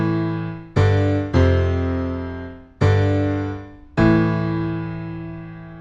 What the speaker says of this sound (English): I've brought up a grand piano sample that sounds like this